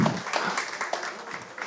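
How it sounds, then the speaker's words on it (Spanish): A live audience at a talk gives light, fairly faint applause for the speaker, a brief scattered patter of hand claps. "que me aplaudan para que se me quiten los nervios"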